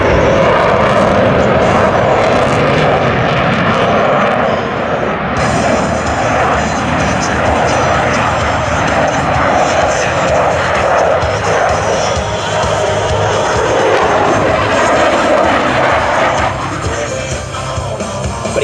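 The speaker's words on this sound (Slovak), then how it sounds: "využije akceleráciu z minimálnej manevrovacej rýchlosti pomocou efektu pridaného spalovania." A military jet at an air show roars loudly as it accelerates on afterburner, a sustained broadband blast that swells and holds for many seconds with a crowd faintly in the background.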